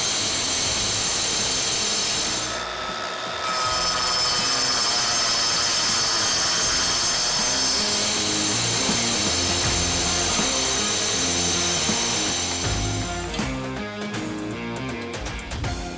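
A Bosch angle grinder cuts granite, marble or tile with a dust extraction attachment, giving a loud, steady, continuous whine and grinding roar that runs nearly unbroken for the whole stretch, dipping briefly near the end.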